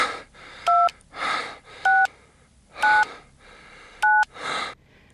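A telephone number is dialed on a phone keypad: four clear beeping tones spaced about a second apart, each alternating with heavy, trembling breaths close by.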